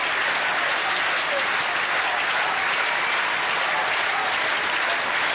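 A tennis crowd applauds at break point, dense sustained clapping that fills the whole stretch at a steady loud level with no pauses.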